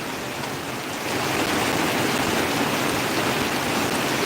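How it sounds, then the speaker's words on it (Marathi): Heavy, wind-driven monsoon rain in Badlapur falling near a building beside a drainage channel, a dense continuous hiss that swells after the first second and stays loud with no talk. "भरपूर दिवसानंतर आज पाऊस पडतो"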